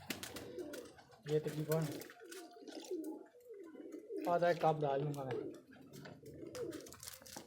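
Pet pigeons coo in soft, repeated rolling phrases, fairly close by, while someone talks in Hindi over them.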